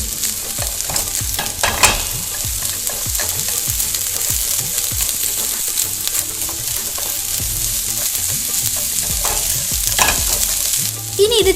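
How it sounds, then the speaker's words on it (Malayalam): Cut shallots fry in hot coconut oil for mutton kizhi porotta, giving a loud, continuous sizzle with dense crackling and occasional stirring scrapes close by. "ഇപ്പൊ നന്നായിട്ട് വെളിച്ചെണ്ണ ചൂടായിട്ടുണ്ട്. അപ്പൊ ഞാൻ അതിലേക്ക് ആദ്യം ചെറിയുള്ളി കട്ട് ചെയ്തതാണ് ഇട്ട് കൊടുക്കുന്നത്."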